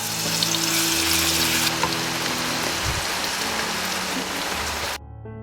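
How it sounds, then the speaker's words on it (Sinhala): Ginger and garlic dropped into hot oil for a fish curry, a loud, dense sizzling hiss that spreads evenly and continues without a break, close up with a low hum beneath and no voices. "ඉඟුරු සුදු ලුණු දානවා තෙලට."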